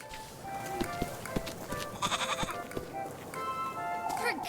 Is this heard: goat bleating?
yes